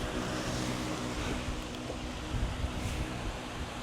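Small electric appliance running on its high setting and blowing air, powered from a BLUETTI Elite 200 portable power station: a steady, broadband whoosh with no breaks, fairly quiet and unchanging throughout.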